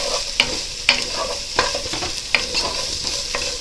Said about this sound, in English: So I'm going to actually go ahead and throw that in there, just to let it toast up with those onions a little bit.